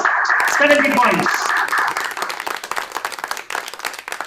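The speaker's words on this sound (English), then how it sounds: "deserves the loudest round of applause from all of us" Audience at a quiz semi-final bursts into loud applause that fades into scattered clapping over a few seconds, with a host's voice talking over the start.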